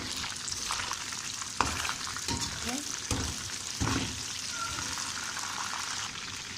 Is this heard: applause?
no